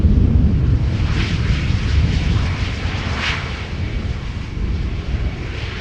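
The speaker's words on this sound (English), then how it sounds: "from Easyjet arriving from Geneva up next" An easyJet airliner arriving from Geneva rumbles into Amsterdam Schiphol, with a broad, loud roar of jet engines and deep low rumble heard from a moderate distance and easing slightly toward the end; no talking.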